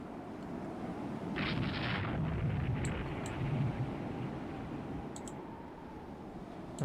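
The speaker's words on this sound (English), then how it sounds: "that would be the battleships opening fire" Battleships open fire in a Rule the Waves 2 naval game: a steady, heavy rumble of distant gunfire rolls on throughout, with a few faint clicks on top.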